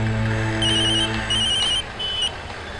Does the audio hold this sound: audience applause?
no